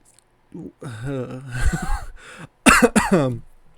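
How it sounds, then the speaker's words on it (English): A man coughs and clears his throat close to a microphone, a few harsh bursts with voiced gasping between them, then a louder cough near the end. "I'm coughing all over the mic."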